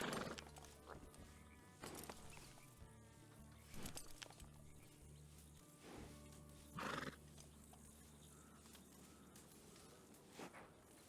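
A horse in a Wild West video game neighs and whinnies repeatedly, with hooves clip-clopping, over a steady busy background hum. The sounds come in several loud bursts spread across the stretch.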